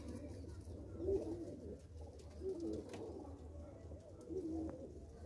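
Pigeons in a pigeon club loft give soft, low cooing calls that repeat at a slow, regular pace. The coos sit close but faint over a quiet background hum.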